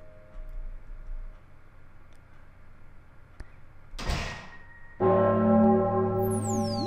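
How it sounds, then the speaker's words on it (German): Bells ring out in the video game Pocket Mirror, a loud, resonant chime with sustained overtones arriving after a quiet stretch, a sharp tick and a sweeping whoosh. "Schon wieder! Jedes Mal die Glocken."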